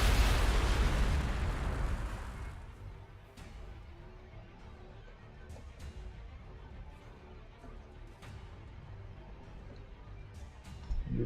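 Distant ranged weapons fire in Warhammer 40,000: Gladius, an Ork battle against an Orkanaut: a loud opening boom and rumble fading over two seconds, followed by sparse, faint sharp pops and cracks over a low ambient drone.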